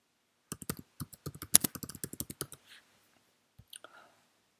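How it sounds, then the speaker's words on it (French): Someone types on a computer keyboard to enter a slide title in PowerPoint: a quick, close run of crisp keystrokes for about two seconds, then a few scattered final taps. "Nous allons insérer un titre tout simplement en tapant sur le clavier."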